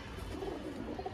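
Soft, low cooing comes from a short-sized female Kalanka pigeon, a faint murmuring burble that continues steadily through the moment with no speech over it.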